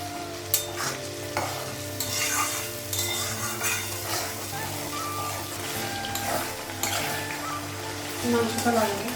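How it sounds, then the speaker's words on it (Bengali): Fried onions with ginger paste, garlic paste, cumin and turmeric are stirred in a sizzling pan. Repeated scraping stirs sound over a steady fry, with faint kitchen clatter. "তো পেঁয়াজটা ভাজা হয়ে গেছে, তো মশলাটা লাগাবো।"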